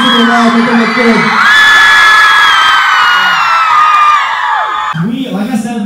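A tour show crowd screaming and whooping loudly for a stretch of several seconds, high shrieking voices layered together, with talk coming in near the start and end.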